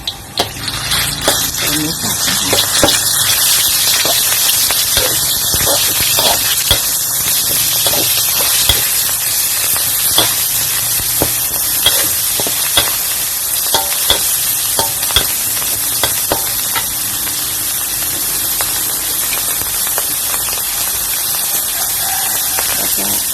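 Minced pork and chopped garlic stir-frying in a hot pan, with a loud, steady sizzle and frequent scraping and stirring clicks running throughout.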